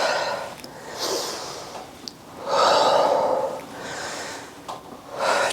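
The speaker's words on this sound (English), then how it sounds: "Exhale on the curl. Inhale on the extension." Alternating exhales and inhales during Pilates reformer bicep curls, several sharp, breathy pushes and draws of air in a regular rhythm, close and clear with no talking.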